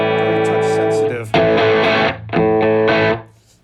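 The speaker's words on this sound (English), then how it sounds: "in toggle position in the middle mode is your boost mode, and boosts your signal nicely" An electric guitar played through an overdrive pedal set to its boost mode rings out loud and close: a sustained chord, then a few sharp strummed chords with mild grit and quick decays.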